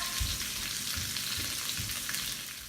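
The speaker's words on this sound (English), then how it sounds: "do you guys hear the sizzling of my onion?" Steady, crackling sizzle of onions frying in a hot pan for curry, continuous and close, with faint low bumps of movement underneath.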